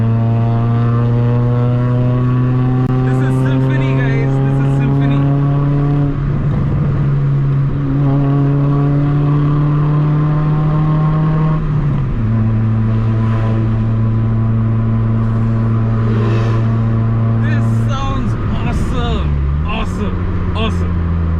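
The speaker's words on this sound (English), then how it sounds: "Dude, this car sounds amazing." An old Hyundai Accent sedan, recently made over, drives along with a droning engine note that climbs under acceleration. The pitch drops back at each of several gear shifts, heard from inside the car.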